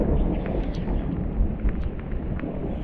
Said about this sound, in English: we're getting lightning and thunder now